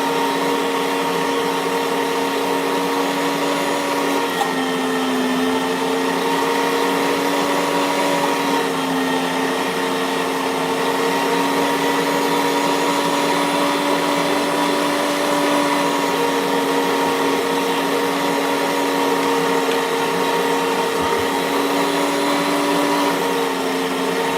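A grinder runs steadily for the whole stretch, a continuous close motor whine with a broad, even hum and no pauses or talk.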